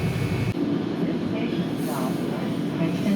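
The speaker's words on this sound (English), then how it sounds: "this is another Comet 2 car like I had from Atlantic City, and it is definitely much quieter" Inside a Comet 2 commuter rail car, the ride produces a steady, fairly quiet rumble with muted wheel and track noise and a faint high whine, a continuous drone throughout.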